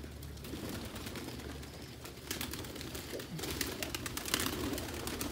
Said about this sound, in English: Let me show you guys some more birds.